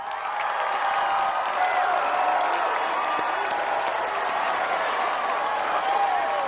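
Steady applause and crowd noise at a prom in a horror film, a dense wash of clapping with faint cheering and murmur that holds at an even level throughout.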